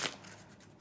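Qwixx playing cards are shuffled once, a short soft riffle burst that fades into quiet.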